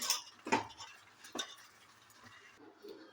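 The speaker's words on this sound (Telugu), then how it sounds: "ఇలా నీరు లేకుండా కలుపుకోవాలి" Moong dal mixture stirred in a pan without water, with a few sharp spoon scrapes and knocks against the pot over soft cooking noise, close and intermittent.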